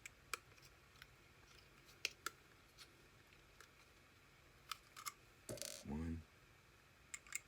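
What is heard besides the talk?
removing two screws from a printer board with a screwdriver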